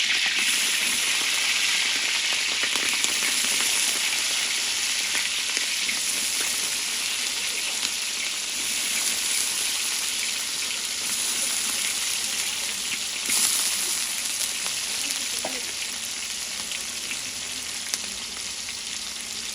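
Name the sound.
onions and green chillies frying in oil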